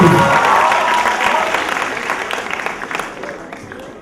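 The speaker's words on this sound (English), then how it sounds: "A big applause for all of you." An audience gives a big round of applause, loud at the start and slowly tapering off, with many hands clapping together and a faint murmur of voices underneath.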